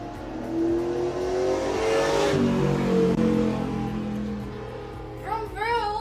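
A car accelerates loudly on a 30-limit road outside, its engine note rising and swelling as it passes, then fading, heard from indoors with a brief chirpy voice at the end.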